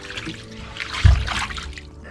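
Water runs from a shower head into an outdoor jacuzzi bath at an off-grid glamping set-up, a soft trickling spray with a brief heavier splash partway through and no talk.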